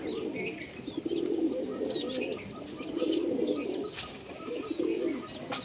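Racing pigeons coo in a loft, a steady throaty murmur of overlapping calls that swells and eases in repeated bouts, with faint chirps and higher bird calls scattered over it.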